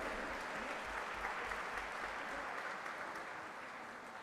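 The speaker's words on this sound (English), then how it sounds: "Huge round of applause, friends." Applause from an audience at a felicitation ceremony during an endowment lecture series, steady and full-bodied clapping filling the whole stretch and fading slightly toward the end.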